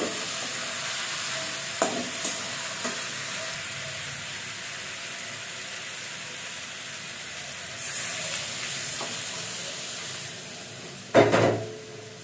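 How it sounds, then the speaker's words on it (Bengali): Potatoes being fried with spices in a pan while preparing a rupchanda (pomfret) fish curry with tomato, giving a steady low sizzle with occasional stirring scrapes and a louder burst near the end, no talking. "মশলাটা দিয়ে আলুগুলো ভালোভাবে কষিয়ে নেব"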